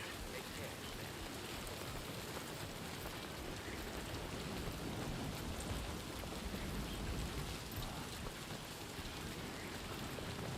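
Steady, dense rainfall in the video game Death Stranding 2, a constant hiss of drops pattering on surfaces with no break, fairly faint and even throughout.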